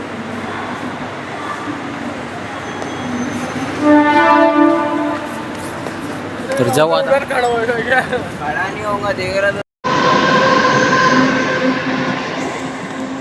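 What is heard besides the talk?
train arriving at the station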